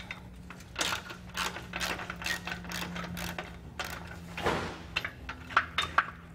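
A 17 mm ratchet loosens the bolts on a trailer jack, producing quick runs of close, crisp clicking in short bursts with brief pauses.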